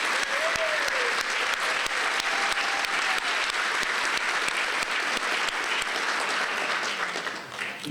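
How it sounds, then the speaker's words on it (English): A police department honor awards ceremony audience claps in a steady, dense round of applause that fills the room and carries on unbroken before tapering off slightly at the end. "So join me in a round of applause for Officer Simone Burris for her hard work in organizing this event"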